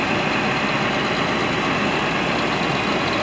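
A 2015 Challenger MT755E tracked tractor with a 350 horsepower engine idles steadily, a constant loud, dense engine drone with no variation and no voices.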